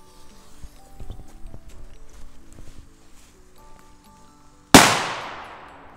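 A Dumbum P6A14 firecracker, a small category F3 banger, goes off once with a single sharp, loud blast and a decaying tail, after several seconds of quieter background sounds.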